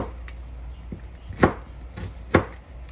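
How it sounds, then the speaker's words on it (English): A knife chops vegetables on a cutting board while making beef soup, with a few sharp, separate thwacks about a second apart that are loud and close against a quiet background. "when it gets to the end, just chop it up"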